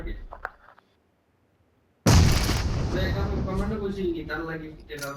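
A grenade blast in PUBG Mobile hits suddenly and loudly after a brief silence, then a rumbling tail carries on under excited voice chat from the players.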